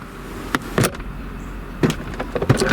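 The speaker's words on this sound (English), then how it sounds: "Down goes the tonneau cover. And down goes the soft top." A Mercedes-Benz SL 500 power soft top and tonneau cover lowering: a few sharp clunks and latch clicks spaced over a low motor hum, close and fairly loud.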